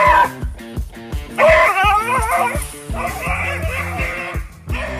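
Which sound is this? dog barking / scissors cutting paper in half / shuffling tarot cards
dog barking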